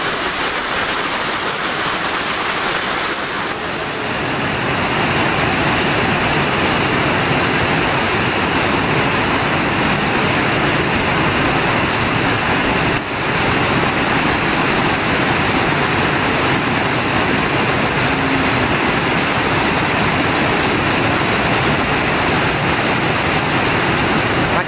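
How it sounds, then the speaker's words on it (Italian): Water pours down a canyon waterfall in Sardinia, a loud, dense, continuous roar that swells after the first few seconds and stays steady, heard up close with no one speaking over it. "Allora vedi l'acqua che sta scendendo."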